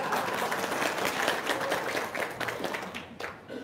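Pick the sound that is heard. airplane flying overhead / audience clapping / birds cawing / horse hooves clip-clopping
audience clapping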